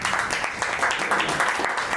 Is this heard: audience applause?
yes